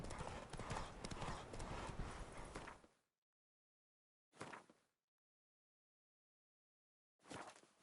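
Roach the horse in The Witcher 3 trotting, a dense run of clip-clopping hooves for about three seconds, then two short separate bursts of hoof clatter after silent pauses.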